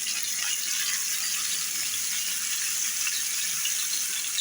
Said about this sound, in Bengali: ফ্রাই প্যানে দিয়ে দিচ্ছি একে একে আমি দুটা চিকেনই ফ্রাই প্যানে দিয়ে দিলাম